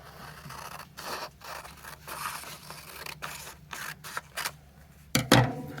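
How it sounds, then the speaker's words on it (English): Scissors snip through a folded sheet of paper while making an origami cube, with scratchy, papery cuts at a steady pace and a louder, sharper final snip near the end, close up with no talking. "take your scissors and just cut off this bottom part"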